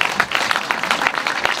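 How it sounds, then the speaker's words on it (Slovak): Audience applause at an anniversary celebration concert in Dubnica, steady dense clapping throughout at moderate level with no pause. "takže veľký potlesk tomuto podujatiu a všetkým organizátorom"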